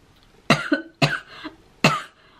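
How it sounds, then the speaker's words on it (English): Three harsh coughs come close and loud, each a sharp burst followed by a shorter catch, spaced about half a second apart in a quiet room. "I can't stop coughing."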